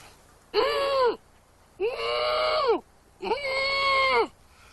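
A voice imitates a flammulated owl, giving three drawn-out, moaning hoots, each about a second long and separated by short pauses, loud and close with no other sound around them.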